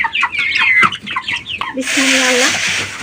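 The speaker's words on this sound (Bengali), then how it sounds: "দেখেন মাসাল্লাহ মুরগিগুলো কত বড় হয়ে গেছে" Hens on a small home farm cluck and squawk close by as they are fed, then a rushing, rattling burst covers the last second.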